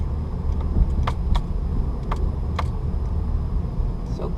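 A manual-transmission car pulls away in first gear, its engine a steady low rumble heard from inside the cabin, with a few sharp clicks and knocks over the drone.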